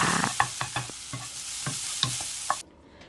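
Fish cake (odeng) stir-frying in a home kitchen pan, a soft steady sizzle punctuated by distinct scraping clicks of a spatula at irregular intervals, then the sizzle cuts off abruptly near the end.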